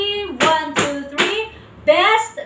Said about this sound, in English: this is how we do the best clap